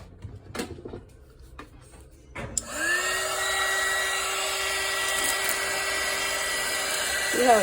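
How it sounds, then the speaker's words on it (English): A heat gun roars on steadily and loudly from under three seconds in, holding an even hiss to the end while shrink wrap tightens over a homemade bath bomb; a few soft handling knocks come before it starts. "I'm gonna take my heat gun"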